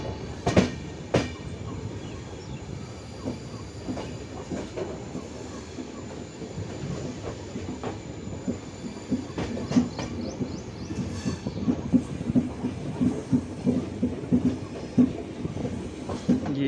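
Kaifiyat Express train rolling along the track near Shahganj Junction, with a steady rumble and repeated clickety-clack of wheels over rail joints, close and continuous throughout.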